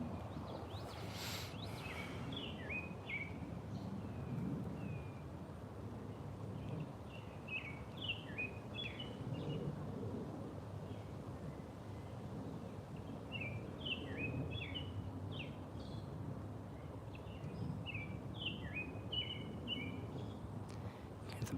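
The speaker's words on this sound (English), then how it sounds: "The birds chirping and everything." Small birds chirp and twitter in repeated bursts in the woods early in the morning, fairly distant over a steady low outdoor rumble, with no one talking.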